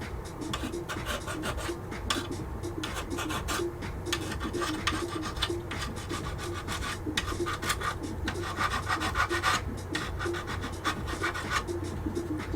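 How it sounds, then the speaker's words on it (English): A file scrapes repeatedly across the bumper of a 1/20 AMT Toyota 4x4 Pickup plastic model, making a close, rhythmic rasping of quick back-and-forth strokes with short pauses between them. "I want to scuff up the bumper, even though I've got red paint on my file right now."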